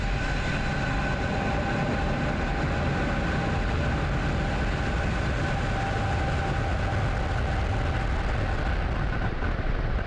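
A rocket engine roars at liftoff: a broad, constant rushing roar, loud and unbroken throughout, with no voices over it.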